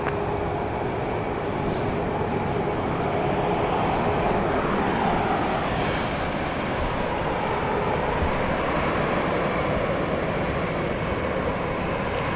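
An airplane at Dallas Love Field airport, a loud, continuous broadband engine roar and rumble sustained throughout with no clear breaks.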